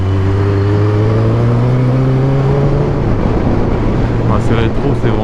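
A motorcycle engine drones while riding, its harmonic tone easing down in pitch and then holding steady under constant wind rush.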